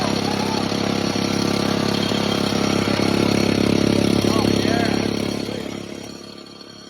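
Small engine running steadily with a plastic tube attached to its exhaust, a loud, buzzy drone with fine rapid pulsing that holds for several seconds before tapering off.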